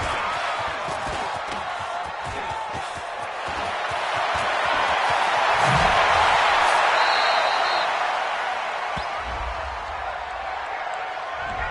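A stadium crowd in a PS4 American football video game roars after an interception, a broad, steady wash of cheering that swells to a peak midway and then eases, with play-by-play commentators talking over it.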